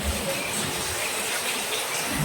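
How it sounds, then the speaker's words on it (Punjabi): Heavy rain pours down in Bathinda, a dense, unbroken hiss of water filling the whole space, steady and loud throughout with no voices over it. "ਬਠਿੰਡੇ ਵਿੱਚ ਬਹੁਤ ਭਾਰੀ ਮੀਂਹ ਆ ਜੀ"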